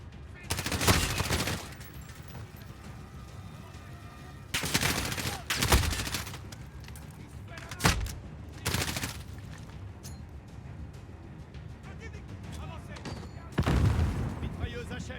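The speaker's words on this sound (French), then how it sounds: "Ouais, en fait c'était une PKM qu'il avait." A PKM machine gun in Call of Duty Modern Warfare rattles off several loud, close bursts, each lasting a second or so and separated by quieter gaps.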